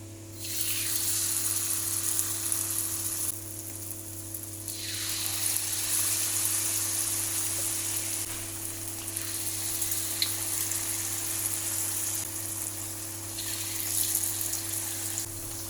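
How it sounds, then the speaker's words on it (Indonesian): Steady sizzling of vegetable fritters frying in hot oil, a continuous crackling hiss that swells and eases in waves, with a low constant hum underneath. "saya akan menggoreng sisanya"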